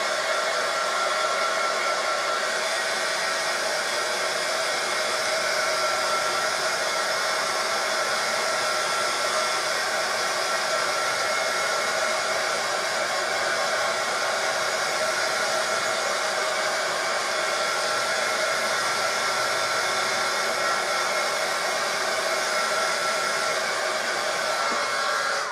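A hair dryer blows steadily for a long stretch while drying paint on a small DIY vintage-style mini washboard, a loud, close, unchanging whoosh with no talk.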